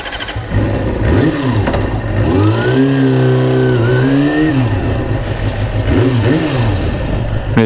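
A Kawasaki ZXR250 motorcycle engine, freshly carburetor-tuned, revs hard close by. Its pitch climbs and falls in repeated throttle blips over a steady idle, loud and alone.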